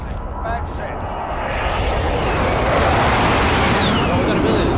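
Helicopter in the Call of Duty Warzone video game, a broad roaring rotor and engine wash that swells slightly louder and holds steady throughout, with speech from players over it.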